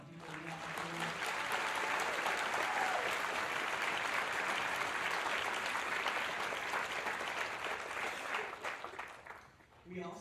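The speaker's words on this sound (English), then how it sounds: "Round of applause for the people in that." Audience at a school winter band concert giving a sustained round of applause, dense steady clapping for about eight seconds before tapering off, with a voice briefly at the start and end.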